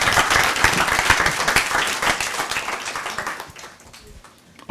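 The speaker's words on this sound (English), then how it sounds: "let's give them a round of applause, ladies and gentlemen" Audience applause for presenters at a capstone event, a dense burst of clapping that stays loud for several seconds, then thins and fades toward the end.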